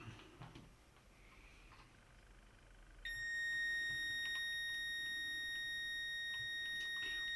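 A continuity tester gives a steady, loud electronic beep while probing wiring during repair of an Autel MaxiDas DS708 scan tool that keeps shutting down; the tone starts abruptly partway through and holds unbroken after a stretch of quiet room noise.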